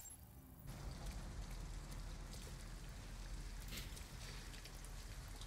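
A dense, constant rush of rainfall in the video game Detroit: Become Human starts up after a short quieter moment and keeps going, with droplets ticking against nearby surfaces.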